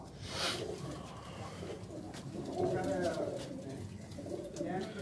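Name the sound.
breeder pigeon cooing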